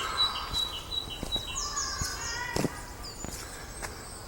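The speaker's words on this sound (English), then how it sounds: "Wonderful to hear all the birds" Several birds chirp and call in short scattered bursts over a soft outdoor background on a spring day among green foliage, with a few faint footsteps; no clear talking.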